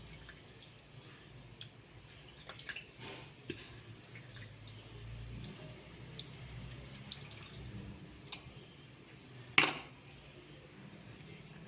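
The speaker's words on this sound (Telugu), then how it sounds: "ఇది చింతపండు నానబెట్టిన పులుసు ఇట్లా వేసుకోవాలి" Soaked tamarind water poured into a pot for brinjal pachi pulusu, a thin trickle with scattered drips and small clinks, ending in a sharper splash near the end.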